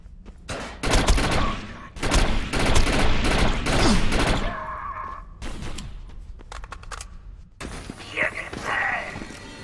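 Sustained gunfire from the video game Defiance crackles in dense rapid bursts with short pauses, loud and close, mixed with thuds and mechanical game effects while a voice speaks over the action.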